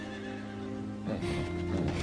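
A horse whinnies in a long, loud, wavering neigh that rises and shakes, with faint hoof clops and background ambience around it.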